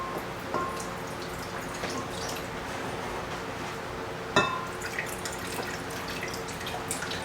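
Apple cider vinegar poured into a measuring cup makes a steady, soft liquid rush that runs throughout, broken once by a sharp clink midway.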